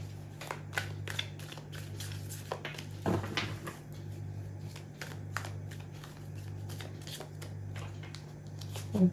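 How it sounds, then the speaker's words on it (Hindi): Tarot cards are shuffled by hand in a quiet room, a string of soft, quick riffling flicks and taps repeating at an uneven rhythm, close and clear over a low steady hum. "जब तक मैं कार्ड शफल कर रही हूँ ना"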